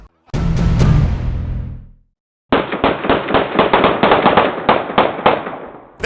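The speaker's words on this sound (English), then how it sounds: "These guys fired like a dozen shots in just a few seconds." Gunfire from two gunmen shooting at a Beverly Hills mansion, caught on a surveillance camera: a fast burst of sharp shots, then a pause, then a longer rapid string of cracks, loud and harsh with no talking.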